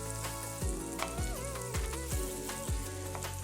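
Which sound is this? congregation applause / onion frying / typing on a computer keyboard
onion frying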